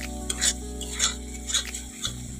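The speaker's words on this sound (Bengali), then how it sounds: "আর এদিকে দেখো মশলাটা কষাচ্ছি" Spice paste stirred in a hot pan for fish curry: a few short scraping stirs, about one every half second, over a steady low sizzle, close and fairly quiet.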